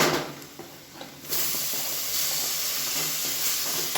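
Chopped tomatoes and masala sizzle in hot oil in a home kitchen pan, a soft hiss that jumps louder after a moment as the tomatoes go in, then holds as a steady frying crackle.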